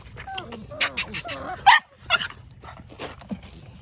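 Pitbull puppies from a young litter bark, yip and whimper in short, close bursts while running around, with a few louder yelps standing out among the softer cries.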